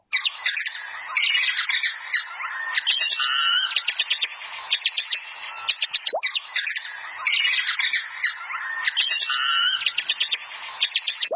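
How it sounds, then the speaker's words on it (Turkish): A bat gives rapid, high-pitched squeaking chirps in dense repeated bursts, close and clear against a quiet background. "Yarasa."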